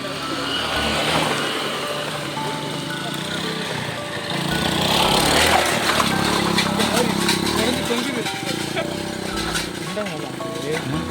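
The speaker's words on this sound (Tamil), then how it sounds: "நிறையா வண்டி மேலே போயிட்டுருக்கு" Several vehicles drive up a hill road toward Manjolai, their engines a steady, fairly loud rumble that swells in the middle, with people talking over it.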